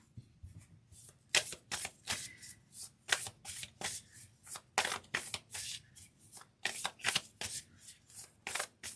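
Rapid bursts of oracle cards being shuffled, riffling in quick repeated runs with short pauses between, close and fairly quiet against a low background hum.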